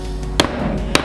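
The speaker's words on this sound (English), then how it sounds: "simply by putting it into place and then hitting it with a hammer" Two sharp hammer taps, roughly half a second apart, drive a Striplox Griplox biscuit into a slot in a panel, each a crisp knock over a quiet room hum.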